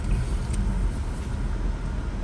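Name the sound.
road traffic noise in a city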